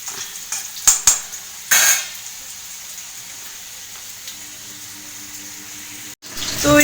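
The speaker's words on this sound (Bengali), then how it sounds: "তো এই সেদ্ধ করা পেঁপেটা আমার ভাজা ভাজা হয়ে গেল।" Boiled papaya fries in a pan with a steady low sizzle, broken by a few louder scraping and clattering stirs near the start and a brief cut toward the end.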